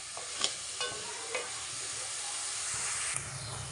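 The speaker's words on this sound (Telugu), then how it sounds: "పన్నీర్ కర్రీలోకి ఉల్లిపాయ ముక్కలు బాగా గోల్డెన్ బ్రౌన్ కలర్లోకి వేగాలి." Onion pieces frying in a pan for paneer curry, a steady close sizzle with a few sharp stirring scrapes and clicks, no voices.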